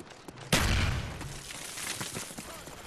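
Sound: gunfire in a first-person shooter video game

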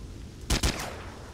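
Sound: gunshot from a gun in the video game S.T.A.L.K.E.R

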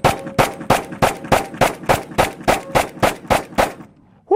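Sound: 10mm pistol (Sig X-Ten) shots at steel targets

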